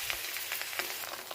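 A duck egg fries in a pan with a steady, close crackling sizzle, a few brighter pops standing out, and no voices over it.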